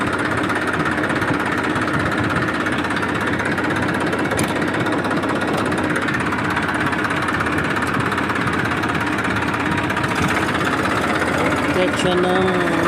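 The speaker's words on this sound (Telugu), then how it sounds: "241 ట్రాక్టర్ ఇది." A 241 tractor engine idles in a steady, rough chug throughout, close and loud, with no clear changes in pace.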